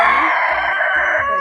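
Black Karinkozhi chickens on a chicken farm crow and cluck in a loud, continuous, close chorus with no pauses.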